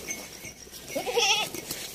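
A goat bleats once, close and fairly loud, with a wavering cry in the middle of the stretch over faint rustling as it is coaxed and led along indoors.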